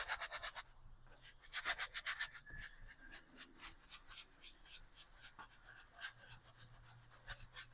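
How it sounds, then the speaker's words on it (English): A paintbrush scrubs paint onto canvas for a tropical seascape, making soft, quick, rhythmic bristle rubs in short bursts, close but quiet over a faint low hum. "Just scrubbing the paint on."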